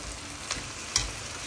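Chicken and rice frying in a pan with a steady sizzle, broken by two soft scraping stirs of a spoon, close and alone with no voices.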